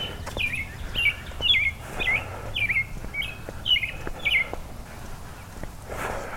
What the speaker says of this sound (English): Got some birds trying to get on the podcast.